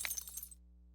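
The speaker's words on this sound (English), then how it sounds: "glass traps everywhere. Let me break them now while I can." A glass trap in 7 Days to Die breaks with a short, bright shatter and tinkling shards that die away within half a second, leaving a low background hum.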